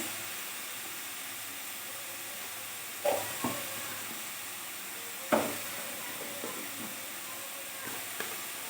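Radish greens fry in a pan with a soft, steady sizzle as a spoonful of turmeric goes in, broken by a few louder stirring scrapes and knocks close by.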